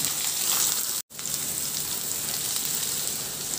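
Garlic and onion sauté in a hot pan, giving a steady, close sizzle and hiss with one brief dropout, and no one speaking.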